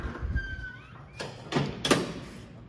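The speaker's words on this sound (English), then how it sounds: "And a lot of doors are squeaky" A door in a university residence hall opens and shuts, giving a thin rising squeak followed by a few soft thuds and a brief rattle, fairly quiet in an indoor hallway.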